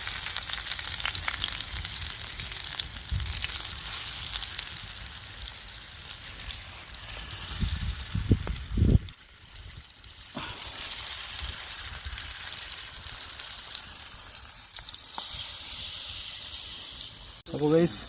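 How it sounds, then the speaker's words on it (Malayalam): Snakehead fish and curry leaves frying in hot oil, a steady crackling sizzle with stirring, brief louder bursts midway, and voices talking over it at times. "അപ്പോൾ നല്ല എണ്ണ തിളച്ച് വന്നിട്ടുണ്ട്. അതിലേക്ക് കുറച്ച് കറിവേപ്പില ഇട്ട് കൊടുക്കാം."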